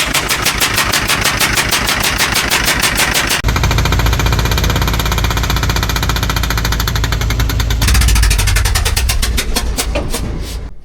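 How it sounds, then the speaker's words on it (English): Diesel ATV engine at an auction, running badly after a glow plug blew out: a loud, rapid, even knocking and popping that shifts into a harsher, heavier clatter with rough rumble, continuing steadily throughout with no talk. "it popped another glow plug out"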